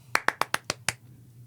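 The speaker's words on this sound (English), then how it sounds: "That was supposed to be friends when they clap." Six crisp hand claps ring out in a quick, even rhythm like the claps in the Friends TV theme song, close and clear over a low steady hum, with no voices.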